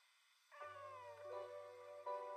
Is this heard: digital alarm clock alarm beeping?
no